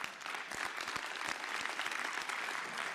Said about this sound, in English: a round of applause for our excellent panelists